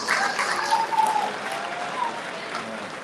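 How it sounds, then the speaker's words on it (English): An audience claps for alumni at a school reunion celebration, a moderate burst of applause that fades gradually over a few seconds. "Let's give them another round of applause, please."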